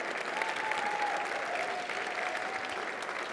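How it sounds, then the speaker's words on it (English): A room full of guests claps steadily at an award dinner, continuous moderately loud applause that fills the space evenly from start to finish. "I would also like you to give a round of applause to Gretchen Moss, Emma Watkins, and Hannah Ward"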